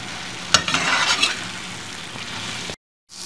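A spoon scrapes and stirs through a pot of mash dal with finely chopped ginger over a soft steady sizzle, with a brief dropout near the end.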